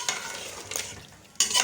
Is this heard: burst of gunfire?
no